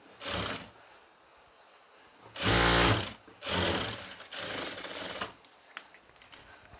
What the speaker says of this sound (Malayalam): നേരത്തെ ഇത് തന്നെ നമുക്ക് അതും കൂടി ഒന്ന് ഉരുട്ടി വെച്ച് തയ്ച്ചു കൊടുക്കാം കേട്ടോ